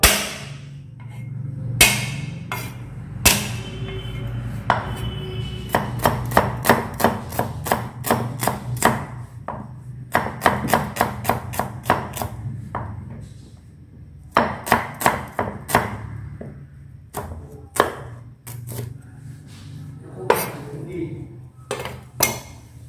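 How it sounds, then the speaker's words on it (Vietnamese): Shallots and garlic being minced with a knife on a cutting board: a rapid run of sharp, close chopping strikes in bursts with brief pauses, loud and dry throughout. "Hành thơm, tỏi các bạn cũng băm ra cho mình."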